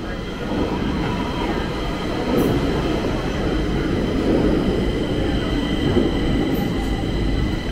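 A steady, loud rumble from inside a moving Stockholm metro train heading to Rådmansgatan, with rattling and rushing noise continuing throughout and faint voices mixed in.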